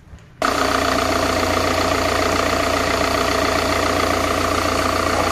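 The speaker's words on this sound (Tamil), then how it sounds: "இப்போ இதுக்கப்புறம் நான் வண்டி ஸ்டார்ட் பண்ணுறேன்." After a brief crank, a Tata Indigo CR4 diesel car engine fires abruptly and settles into a loud, steady, even idle that continues without break, recorded close up following timing belt work.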